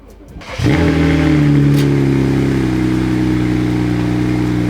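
A BMW 135i engine is started and then revs, settling into a loud, steady exhaust rumble with a deep throaty drone.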